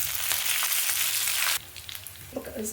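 Crushed garlic and curry leaves hit hot oil in a pan of tempering for a fenugreek leaf chutney, giving a loud, dense sizzle that suddenly drops to a softer crackle partway through, with a few light stirring clinks near the end.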